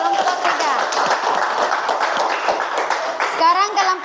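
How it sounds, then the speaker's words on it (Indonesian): Classroom applause for a student group, a burst of dense clapping from schoolchildren mixed with chatter and kids' voices throughout, close and fairly loud. "tepuk tangan buat kelompok"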